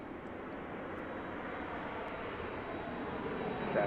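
A departing airliner at Washington Reagan National Airport makes a steady, broad engine roar that holds at a distance and swells slightly toward the end, with no talk over it.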